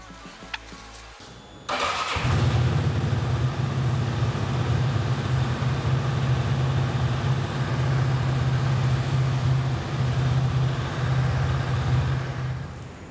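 A Benelli Leoncino 250 motorcycle engine starts after some brief handling noises, then settles into a steady, close, low-pitched idle that runs evenly for about ten seconds.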